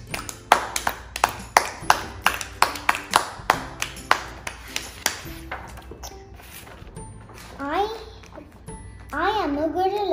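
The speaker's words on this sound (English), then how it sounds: "I am a seal and I clap my hands." Children clapping their hands in a steady run of sharp, evenly spaced claps, about a dozen in the first six seconds, followed by a few excited young voices calling out.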